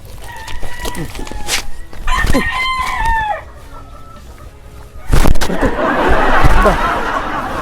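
A grey gamecock on a Filipino game farm crows several times in quick succession, close and loud, with clucking and bird chatter around it and a dense burst of flock noise at the end.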